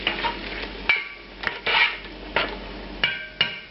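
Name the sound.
pureed tomatoes cooking down in a pan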